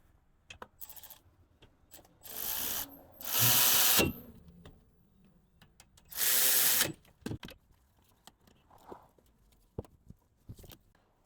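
Ratchet and power tool work on the rear brake caliper bolts of a 2015-2021 Kia Sedona: bursts of ratcheting and a few longer whirring runs, with scattered clicks and clanks of tools, close and loud, no talking.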